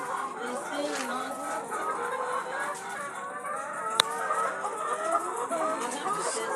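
Chickens clucking steadily on a chicken farm with a nipple drinker water system, a busy flock murmur close by with a person speaking over it and a brief sharp click partway through.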